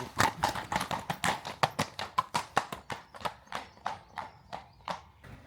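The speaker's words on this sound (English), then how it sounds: "Nearly got run over by a horsey." A horse's hooves clip-clop past on a road during a countryside walk, a quick run of distinct hoofbeats that grows louder, then fades as the animal moves away.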